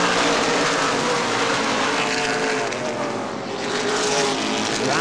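Late model sportsman race cars roaring around Angola Motorsport Speedway, a dense, loud wall of engine noise that stays constant with a slight dip as the pack passes, no voices heard over it.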